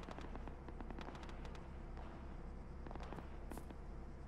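Rapid gunfire in an Arma military game firefight, dense popping shots over a constant noisy bed, some sharper reports standing out, heard without talk.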